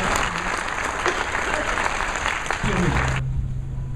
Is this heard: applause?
yes